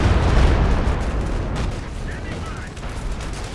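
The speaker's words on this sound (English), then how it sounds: "that turned out to be a very good creeping barrage" A creeping artillery barrage pounds a bunker in the Company of Heroes 2 video game, a loud dense rumble of overlapping blasts and gunfire that slowly eases over a few seconds.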